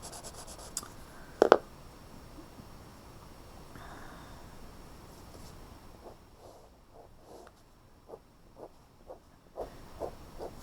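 Pen or pencil strokes on paper while sketching a six-sevenths fraction diagram, a loud scrape near the start followed by a string of short, soft, evenly spaced marks toward the end.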